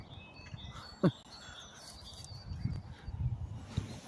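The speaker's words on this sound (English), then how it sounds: "Love hearing the birds." Birds chirp and call at Ravelston Nature Reserve: a few faint high calls and one brief sharp note sit over a rustling outdoor background, with muffled low sounds throughout.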